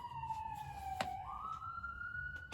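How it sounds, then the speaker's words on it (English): A police siren wails in a smooth rising and falling sweep, fairly faint and distant over low background rumble, with no voices. "gotta have some sirens"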